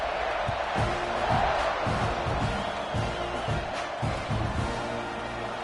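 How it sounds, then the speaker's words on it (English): A college football stadium crowd buzzes as a steady, distant roar of voices with scattered claps and thuds, while a commentator talks over it. "this crowd is buzzing after that last score"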